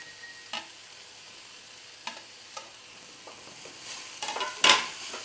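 Fried sandwich 65 pieces are stirred into an onion masala in a pan. A handful of scattered spoon scrapes and knocks sit over a faint sizzle, with a louder scrape near the end.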